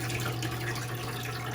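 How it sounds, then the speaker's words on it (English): Water trickling and splashing steadily out of a Manitowoc ice machine whose dump-valve drain is plugged, a constant close, wet flow over a low machine hum, with no talk. "look how slow the water is coming out of here"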